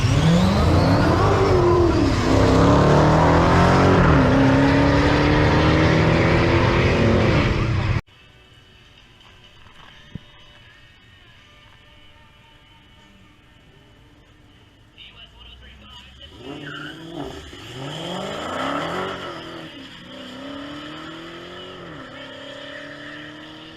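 Dodge Challenger Hellcat, basically stock, launches in a drag race against an RC car: a loud engine roar with rising revs for about eight seconds, then quiet, then a more distant engine revving and accelerating returns, with people talking.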